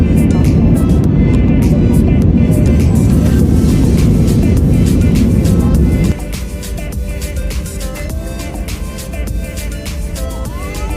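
Airliner cabin during takeoff on a flight to Dakar, with a loud, steady roar of jet engines and rushing air that drops to a quieter, continuous cruise hum partway through.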